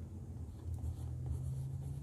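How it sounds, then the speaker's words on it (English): A pencil scratches across the paper of a Hobonichi Techo A6 planner, a soft, steady, close-up scraping of continuous strokes with no voices. "I'll just use the pencil."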